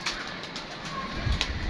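Pigeons kept for training come down to land, giving soft low cooing with a faint flutter of wings, fairly close and without any talk.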